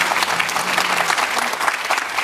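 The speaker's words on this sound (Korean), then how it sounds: "이럴 때 박수 확실합니다" Audience applause at a live Korean televised town-hall talk event with the president, a dense, steady round of clapping filling the space from start to finish with no break.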